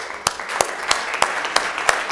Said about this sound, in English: I think we gave them a big applause